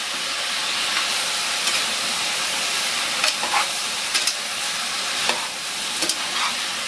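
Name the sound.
sautéing vegetables for aviyal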